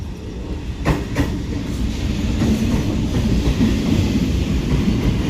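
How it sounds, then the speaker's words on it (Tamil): A Chennai local train rumbles steadily into St. Thomas Mount station, a dense low mechanical roar with some clattering at the start, close and continuous throughout. "நம்மளோட ட்ரெயின் வந்துருச்சுங்க."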